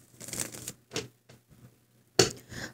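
Tarot cards are shuffled by hand in a few short, crisp riffling bursts separated by quiet gaps, close and fairly soft.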